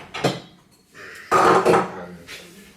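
A saucepan is lifted out and handled in a home kitchen, giving a couple of close, clattering metal knocks and scrapes with short quiet gaps between them and no talk.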